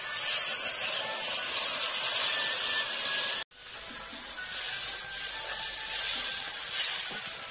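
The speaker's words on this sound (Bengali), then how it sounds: "আমি এখন জল দিয়ে দিচ্ছি।" Water poured into a hot pan of sweet-and-sour Bengali-style rohu fish curry, giving a loud, steady hiss that breaks off briefly, then resumes as a slightly softer, sustained sizzle.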